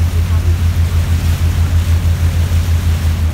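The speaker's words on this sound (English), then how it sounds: "Maybe you can't because the motor is very loud" A powerful boat engine on a wildlife tour boat drones loudly and steadily, a deep pulsing hum with wind and water noise over it.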